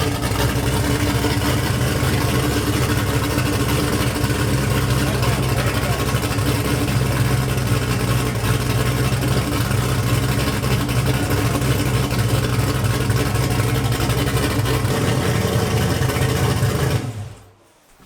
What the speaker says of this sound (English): she idle. That sounds good, Daniel.